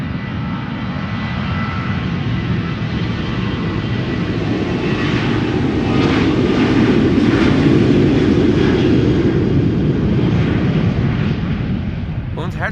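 A Ryanair jet bound for Dublin at Schiphol Airport delivers a loud, deep engine roar that swells to a peak midway and then eases slightly, sustained and close.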